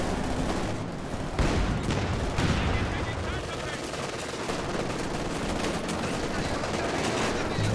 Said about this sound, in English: LMG's starting to get to work